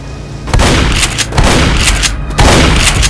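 Pistol shots in the zombie shooter Left 4 Dead: three loud, sharp cracks at irregular intervals, each followed by a brief ringing tail, with no talking.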